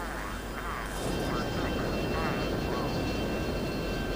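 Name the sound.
enemy plane flying in video game F22 Total Air War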